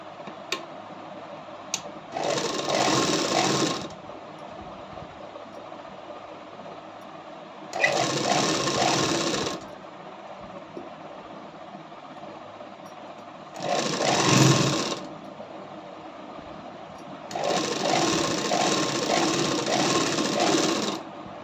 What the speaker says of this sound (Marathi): आणि आता शिलाई मारून घ्यायची.